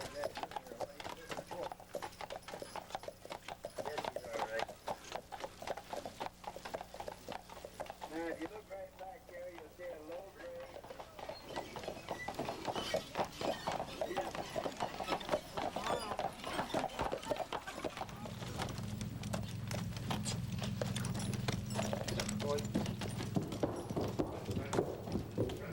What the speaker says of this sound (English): Passengers stop there to change from a 2- to a 3-horse-drawn carriage to complete their tour.